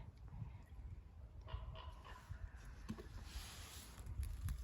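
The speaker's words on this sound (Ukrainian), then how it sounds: "Ворон кряче." A raven caws faintly in the distance, a few harsh calls over quiet background noise in a Carpathian forest in Bukovina in December.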